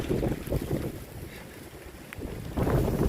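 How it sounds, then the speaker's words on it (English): Strong wind roars through a storm surge at the St Lucia Estuary, a loud, continuous rush with heavy buffeting against the microphone that eases slightly mid-way before surging back. "Jeez, but the wind is blowing"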